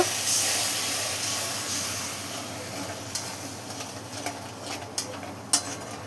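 Water poured into a frying spice masala, giving a broad hissing sizzle that fades gradually, followed by several sharp clinks of a utensil against the pan.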